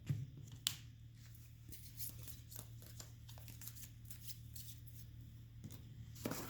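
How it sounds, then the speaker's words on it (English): Soft riffling and snapping of cards being shuffled close by, with a few sharper flicks, over a steady low electrical hum. "shuffle these 3 cards"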